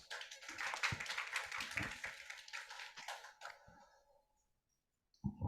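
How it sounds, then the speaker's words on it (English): Applause from an audience at an arbitration and dispute settlement event, a few seconds of fairly close, uneven clapping that thins out and fades to silence, followed by a brief sharp sound at the end. "Round of applause for her, please."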